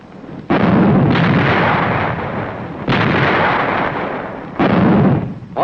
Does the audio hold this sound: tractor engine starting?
no